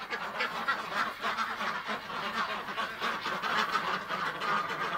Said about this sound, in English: look at the ducks in here